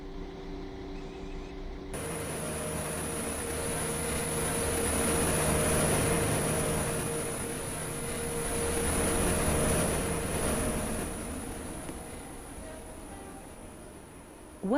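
A Waterline passenger train runs on the Stepford County Railway in the Roblox game, heard from aboard as a continuous rumble with a high whine that swells and eases twice, and a brief louder sound at the very end.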